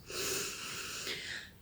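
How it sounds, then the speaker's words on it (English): Slow breath drawn in through the nose during a relaxation exercise for the jaw, heard close and soft as a single airy inhalation lasting over a second. "So breathing in through your nose."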